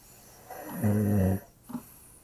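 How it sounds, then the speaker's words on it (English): A single deep, drawn-out snore, close and rumbling, followed by a short softer breath. "its occupant was sound asleep and snoring"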